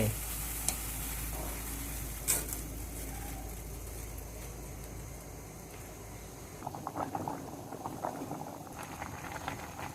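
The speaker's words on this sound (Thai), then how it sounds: "พอน้ำเดือดจัดนะครับ ใส่เส้นลงไป" Water bubbles and churns at a rolling boil in a pot for cooking spaghetti, a steady hiss of liquid with occasional clinks and stirring noises toward the end.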